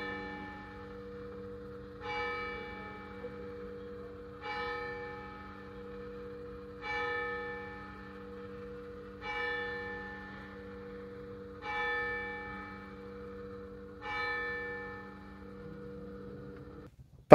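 Church bells in Benidorm strike eleven o'clock, seven clear evenly spaced tolls visible here about every two and a half seconds over a steady low hum, each chime ringing out and decaying before the next.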